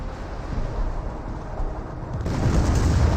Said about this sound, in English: here comes the N2 barrage